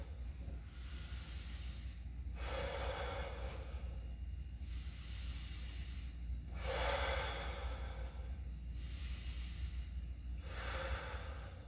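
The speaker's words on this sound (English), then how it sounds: "Go ahead and take some deep breaths for me." A patient takes deep breaths during a lung examination, with about five slow, even cycles of airy inhale and exhale close up and no talking.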